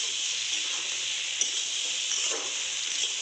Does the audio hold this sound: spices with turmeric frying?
yes